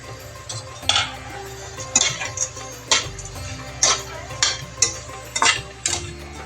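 A metal spoon scrapes and clinks against a hot kadhai as dry coconut is stirred and roasted without oil, sharp knocks recurring every second or so over a low steady hum.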